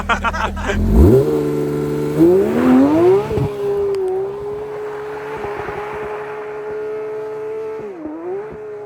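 A Porsche 992 GT3 RS drives in the snow, its engine revving up loudly in rising sweeps and then holding a high, steady drone before briefly dipping and climbing again.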